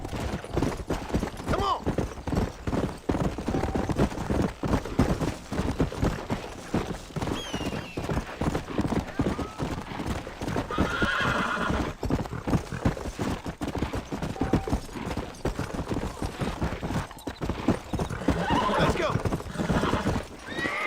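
A horse gallops across rough terrain in Red Dead Redemption, with rapid rhythmic hoofbeats throughout and an occasional whinny, while someone talks over the game sounds.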